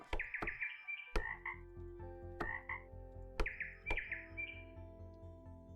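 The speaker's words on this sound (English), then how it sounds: "That's the only thing I hear is frogs and birds." Frogs croak in sharp, repeated clicks and rasps, with bird chirps and whistles woven through, a busy natural chorus at low volume.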